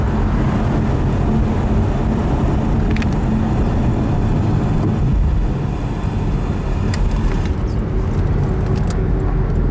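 A 2017 Porsche 911 Carrera Cabriolet engine drones steadily while driving, a loud sustained rumble blended with road and wind noise and a few faint clicks over the top.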